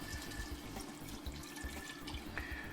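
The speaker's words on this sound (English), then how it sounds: "I'm ready to add my water" Water runs steadily from a tap into a cooking pot for bean soup, a continuous close pouring and splashing that lasts the whole stretch with no voices.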